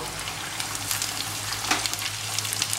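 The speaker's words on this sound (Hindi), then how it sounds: "आप देखिए कि जब तक मेरी फ़िश फ्राई हो रही है" Fish sizzling steadily as it fries in hot mustard oil, a continuous close crackle with scattered sharper pops and spits throughout.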